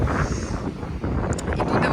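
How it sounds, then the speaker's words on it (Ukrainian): Strong wind buffeting the microphone in a steady low roar at the seashore in Portugal, with faint water sounds in the background and no talking. "Можна бачити, який вітер. У мене волосся роздувається"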